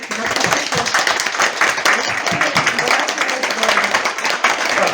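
Dense, continuous applause from an audience of children and adults in a central city library in Dnipro, loud and close, with voices mixed into the clapping throughout.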